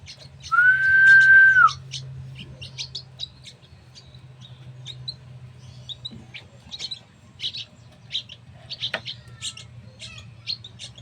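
A pet kulaga bird calls with one loud, clear sustained whistle near the start, then keeps up softer scattered chirps and tweets over a low background hum.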